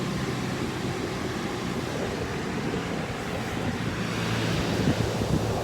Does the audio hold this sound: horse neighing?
no